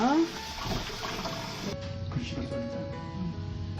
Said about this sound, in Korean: 여러 번 이렇게 여러 번 이렇게 헹궈 주시고요